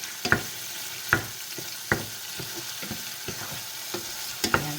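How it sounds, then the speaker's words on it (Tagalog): Egg frying in a pan and being stirred a little, a steady soft sizzle broken by several sharp scraping clacks of the utensil against the pan. "pag ganitong medyo luto na yung egg, halo-haloin na natin ng konti"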